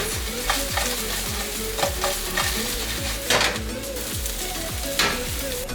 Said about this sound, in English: And so we're just gonna toss our shrimps in this.